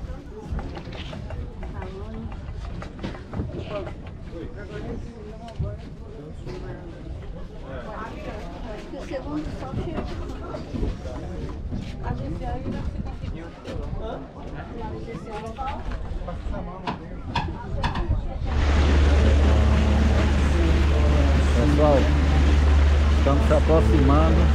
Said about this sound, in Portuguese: Aqui o motor do catamarã, um Mercury.